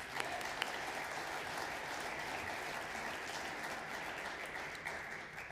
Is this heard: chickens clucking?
no